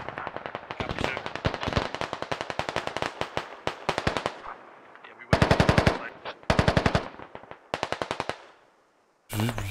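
A BTR armored vehicle in the Squad video game fires its gun in rapid, loud bursts of repeated shots, several volleys separated by short pauses, with a final burst after a brief silence.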